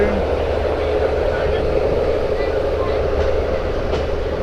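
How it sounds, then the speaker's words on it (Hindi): A Haridwar–Shri Ganganagar Intercity Express hauled by a Ludhiana-based WDS 6AD diesel locomotive gives a steady, continuous rumble and rolling noise throughout, with no clear breaks. "ये लुधियाना का WDS लोकोमोटिव 6AD।"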